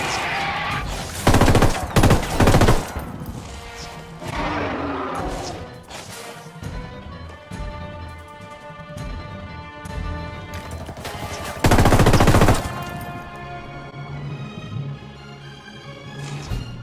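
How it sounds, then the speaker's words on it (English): Gunfire in Ghost Recon Wildlands aimed at the Predator: loud bursts of shots cluster early, then a second heavy burst later, with game music and sustained tones underneath between volleys. "This shot here shooting the Predator in the back felt a bit cheap to me"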